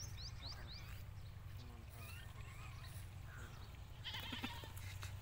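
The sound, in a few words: goat bleating on a goat farm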